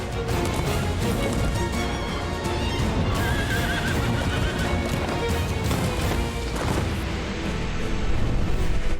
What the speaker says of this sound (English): I just noticed the horse can walk on the air.